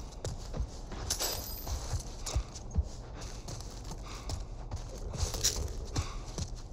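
Horse hooves clip-clop at a steady walking pace in The Last of Us, light repeated thuds close by under soft ambient game sound, with no talking.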